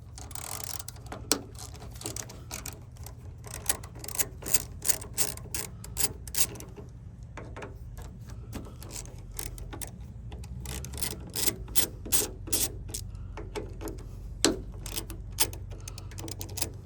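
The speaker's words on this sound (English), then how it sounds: "So now that we have pulled out the screws" Screws being backed out of the rear passenger door of a 2012 Toyota RAV4, a run of quick ratcheting clicks and small metallic ticks over a low steady hum, fairly close and without talk.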